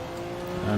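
Porsche 962C Group C race car in Assetto Corsa, its engine droning with steady harmonic tones that swell louder near the end as the wastegate engages mid-corner.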